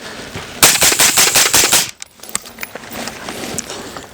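A recce-style AR rifle fires leftover brass-cased 5.56 rounds in a rapid string of about eight loud, sharp shots over roughly a second and a half, followed by quieter clinking and shuffling.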